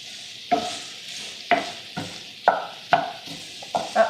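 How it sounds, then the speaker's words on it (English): Sausage sizzling in a hot pan while being stirred, with a soft continuous hiss broken by about six sharp scraping stirs at irregular intervals, close and fairly loud. "I'm going to give my sausage a good stir. It's starting to heat up"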